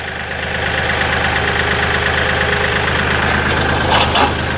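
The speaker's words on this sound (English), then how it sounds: "You're learning how to drive the tractor even better" A tractor engine runs steadily as it is driven, a constant mid-to-low rumble holding level throughout with faint rattling on top and no talking.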